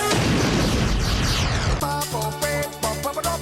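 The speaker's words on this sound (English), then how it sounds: "which causes an explosion." A cartoon explosion set off by switched potions, a loud dense blast of broadband roar that cuts abruptly into a bright musical sting with rhythmic hits.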